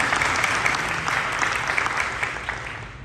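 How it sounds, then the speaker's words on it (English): A room full of people clap steadily together, a dense even patter of applause that continues throughout at moderate volume. "can we give a round of applause for Heather?"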